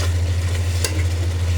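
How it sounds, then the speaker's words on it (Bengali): Chilies and spices fry in a pan for a katla and rui fish-head curry, giving a steady close sizzle with a brief scrape of stirring partway through, over a low constant hum. "মরিচগুলো আগেই কষানোর সাথে দিয়ে দিলাম। মশলা ভালোভাবে কষিয়ে নেব।"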